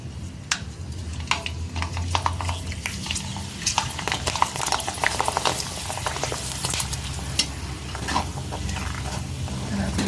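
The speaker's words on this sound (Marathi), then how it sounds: "आता आपण पापड टाकून बघूया पापड छान फुलतंय काय" Rava papad dropped into hot oil, the oil not yet fully heated, gives a steady bubbling sizzle with scattered crackles and light pops, close and continuous throughout.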